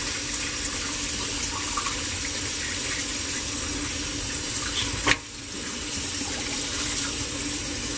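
Running water from a tap pours steadily over a black drum fish being rinsed clean of blood, a continuous close hiss that briefly cuts off and resumes, with no talking.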